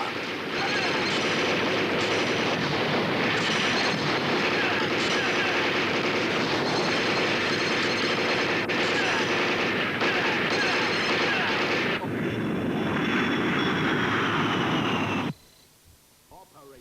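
Dense, loud, continuous battle action from the Taito arcade game Operation Thunderbolt, with jets, helicopters and tanks, gunfire and explosions packed together without pause before cutting off abruptly near the end.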